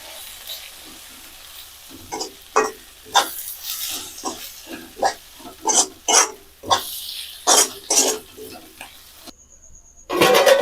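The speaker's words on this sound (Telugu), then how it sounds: "మీ టేస్ట్కి తగ్గట్టుగా సాల్ట్ కారం వేసుకొని ఇలా మిక్స్ చేసుకోవాలి." A drumstick-leaf egg mixture with chili powder and salt is stirred in a bowl, making a series of wet, squelchy scraping strokes in an irregular rhythm, close and distinct, with quiet gaps between them.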